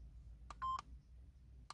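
A dashcam gives a few short electronic beeps, one brief pip, then a longer tone, then another pip, quiet against a faint low rumble inside a car.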